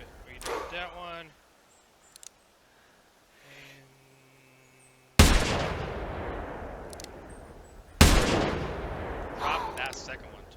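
Two sharp, loud rifle shots from theHunter Classic, fired at grey wolves, each cracking out and trailing into a long echoing decay a few seconds apart, preceded by brief speech and quiet game ambience.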